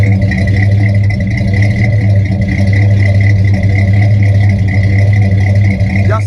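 A 1968 Pontiac GTO engine idles steadily and loudly up close, a deep continuous rumble with a rattly, whirring edge that holds without pause throughout.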